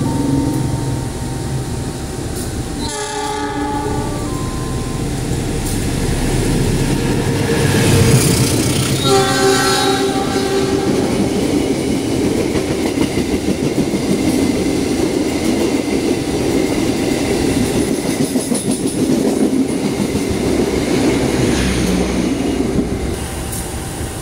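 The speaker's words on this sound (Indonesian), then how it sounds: "segera melintas kereta api Pangandaran tujuan Banjar dari arah Gambir." The Pangandaran passenger train to Banjar rumbles past at Sidareja station in Indonesia with loud horn blasts near the start, then steady clattering of wheels on rails continues close by.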